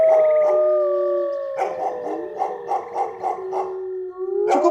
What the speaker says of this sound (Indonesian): terdengar lolongan panjang anjing sahut-menyahut di kejauhan